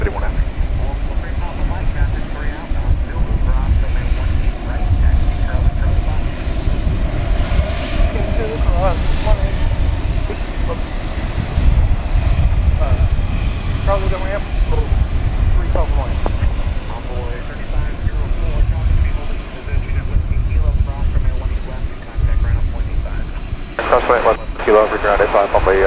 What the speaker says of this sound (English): As we watch this UPS 767 flight 751, it's going to Louisville.